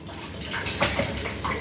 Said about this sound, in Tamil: அந்த மிக்சியை கழுகி அப்படியே தண்ணி ஊற்றிப்போம்